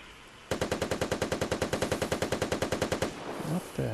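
Automatic weapon fire from a shootout in the survival shooter Vigor, a single sustained burst of about twenty-five evenly spaced, loud, close shots lasting roughly two and a half seconds, followed by quieter ambience.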